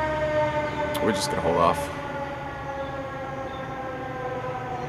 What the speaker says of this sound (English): trying to talk over police sirens and fire trucks